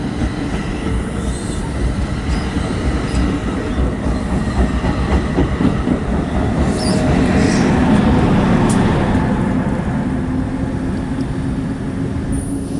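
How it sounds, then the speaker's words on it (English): A train rumbles steadily away from Short Hills station, New Jersey, heading west, wheels clattering over the rails with faint squeals under a continuous heavy drone. "the train's moving west towards Short Hills"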